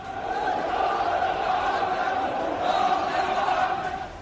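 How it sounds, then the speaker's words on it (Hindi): A large protesting crowd storms government buildings in Baghdad, its dense, continuous roar of shouting voices sustained and loud throughout, without a break. "राष्ट्रपति भवन से लेकर सरकारी इमारतों में घुसी भीड़"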